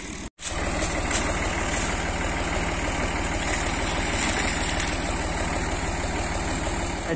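A tractor engine runs steadily to drive a tubewell pump on a farm, a loud, close, even low rumble that continues after a brief dropout near the start.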